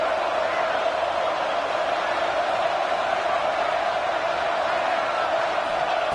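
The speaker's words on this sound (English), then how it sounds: "the crowd coming to life here, trying to help this defense down in the red zone" A large stadium crowd roars at a college football game between Baylor and Stanford, a broad steady wash of cheering with no break or rise.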